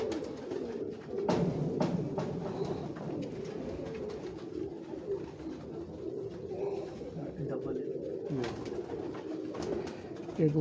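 Pigeons cooing on a Lahore rooftop, a steady murmur of soft overlapping coos that runs throughout, with someone talking close by over them.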